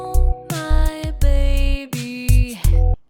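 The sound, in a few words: AI-synthesized Japanese female vocal singing, Synthesizer V Studio 2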